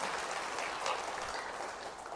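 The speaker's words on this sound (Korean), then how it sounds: "전 세계 모든 성령 쇄신에서 박수 한번 쳐주세요." A Catholic Charismatic Renewal congregation gives a short burst of applause, faint and distant, a soft steady patter of many hands.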